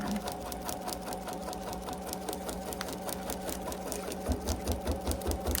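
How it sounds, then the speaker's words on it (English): An embroidery sewing machine stitches a basting box with a fast, steady, rhythmic needle chatter that is loud and close and runs throughout with no talking. "I'm going to put a basting box, and I'm going to use this little icon right here, and we'll put a basting box on."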